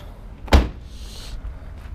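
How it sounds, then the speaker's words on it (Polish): The car door of a Chrysler LeBaron Turbo shuts once with a single solid thud close by, followed by a short soft whoosh and quiet background. "Chwila, przymknę drzwi."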